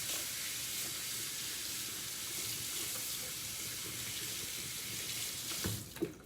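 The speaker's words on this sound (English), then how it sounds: "let me wash these hands, and hold on for me 1 second." A kitchen tap runs steadily while hands are washed under it at the sink, a continuous close splash and hiss of water with a couple of brief clatters near the end.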